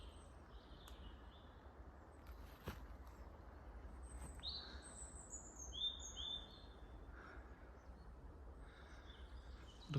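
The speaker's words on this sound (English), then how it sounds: "Can you hear all the birds?" Woodland birdsong with scattered chirps and short calls at moderate distance, layered over a steady low outdoor hum and rustle, with no voices.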